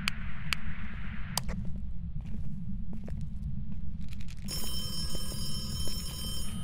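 Electronic telephone ringing inside the ghost-hunting video game Phasmophobia, a bright steady ring that starts partway through over a low droning game ambience with scattered clicks and thumps.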